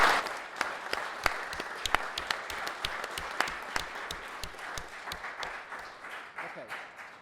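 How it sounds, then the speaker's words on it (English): An audience at a whistleblowing talk in Parliament applauds: sustained, dense clapping with sharp individual claps standing out, gradually thinning toward the end. "I think with Chris, Paulina, Nigel, they should all get a round of applause, really."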